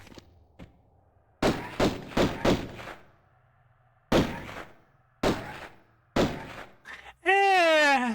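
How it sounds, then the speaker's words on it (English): Gunshots from the original-style weapon sounds in the Tomb Raider I–III Remastered video game: several sharp, loud thudding bursts in irregular clusters, followed by a brief rising electronic tone at the end. "that sounds like the original gunshots"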